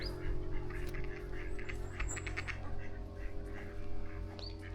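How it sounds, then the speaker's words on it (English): Several ducks quack in scattered bursts close by over a low background rumble, with no talking. "Quite a lot of ducks."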